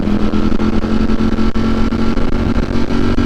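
Loud, close engine note of a Ducati V4 Streetfighter fitted with an aftermarket exhaust, a sustained droning hum with slight pulsing and wind noise, no voices over it.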